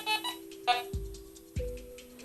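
Bounty Hunter Gold metal detector gives short electronic beeps and tones, with a steady low hum underneath and a couple of sharp low thumps, close and fairly quiet.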